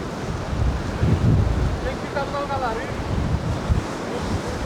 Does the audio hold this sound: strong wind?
yes